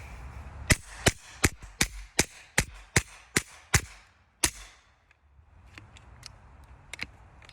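An AEA HP SS .30 caliber air rifle (non-Plus) with an adjusted recoil spring, charged to about 24 MPa, fires into dirt six or seven yards off: ten sharp, loud shots in quick, even succession, then a few faint clicks.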